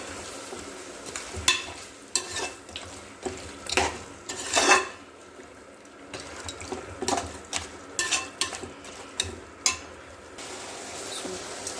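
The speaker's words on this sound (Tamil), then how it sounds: "அந்த மசாலாக்குள்ளே நல்லா கிண்டி விட்டுருங்க" A spoon scrapes and clanks against a pot as mutton bones are stirred through sizzling masala, with irregular metallic knocks repeating every second or so over a low background frying hiss.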